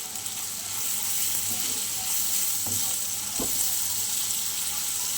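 Bitter gourd sizzles in a pan with cumin powder, giving a loud, steady frying hiss, close and continuous, with a few soft stirring taps partway through.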